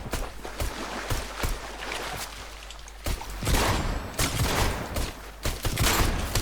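Rapid bursts of gunfire from the video game Fortnite, crackling in quick volleys over a constant low hum, loud and dense throughout.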